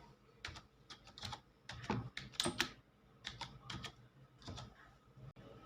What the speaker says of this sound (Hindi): सबसे पहले जो है आप अपने गूगल ब्राउज़र में टाइप करेंगे क्रोम एक्सटेंशन।